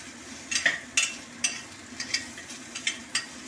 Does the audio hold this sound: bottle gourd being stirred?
yes